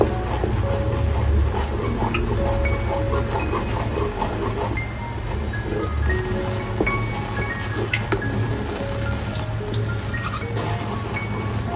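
Milk powder dough is stirred continuously in a pan as a sweet dries out, with frequent metallic clinks and scrapes of a spoon against the pan over a low background hum, close and steady.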